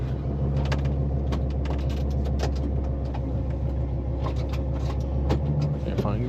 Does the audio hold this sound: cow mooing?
no